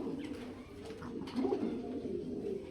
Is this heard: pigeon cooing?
yes